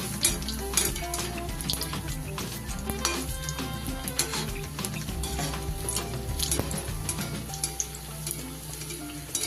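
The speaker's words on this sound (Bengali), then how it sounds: "এক পিস করে আমি ভেজে নেব। একটু মাঝারি আঁচে ভাজতে হবে।" Bread sandwich pieces frying one at a time in oil over medium heat, with a steady close sizzle under scattered clinks and stirring knocks of a utensil against the pan, and no talking.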